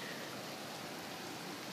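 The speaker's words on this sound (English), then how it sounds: "I might consider this to be hail, because I'm looking on top of the car" Very small pea-sized hail falls on top of a car during a winter thunderstorm, giving a dense, even, continuous patter and hiss with no pauses.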